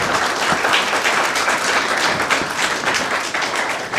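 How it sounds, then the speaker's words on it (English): A large audience applauds steadily for a family at a university PhD invitational event, a dense, continuous wash of clapping that holds at an even, loud level throughout with no voices on top. "So can we please have a round of applause?"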